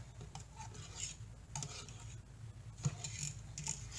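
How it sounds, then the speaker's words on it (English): A spoon stirs thick coconut milk sherbet in a bowl, with soft scraping strokes and light clinks against the side, close and fairly quiet with no voices. "So I'm just gonna mix in"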